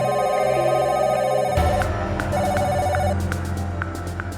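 A phone ringtone sounds in a home during a TV drama, a steady tone that shifts into a busier melodic pattern with clicks, continuous and fairly close, with no one talking.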